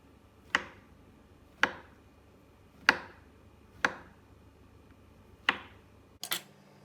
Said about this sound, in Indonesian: Dipotong seperti biasa, memanjang.